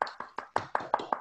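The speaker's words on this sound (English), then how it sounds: "we need an applause" A few people clapping at a useR! 2020 conference session, seven distinct claps in a slow, sparse rhythm, close and fairly quiet, with no talking.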